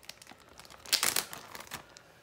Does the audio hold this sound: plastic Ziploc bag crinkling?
yes